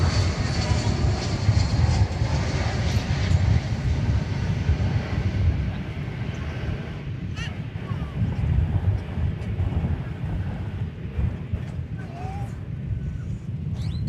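A plane lands at DFW Airport on a windy, blustery, cloudy afternoon, with steady loud engine roar and heavy wind buffeting the microphone throughout.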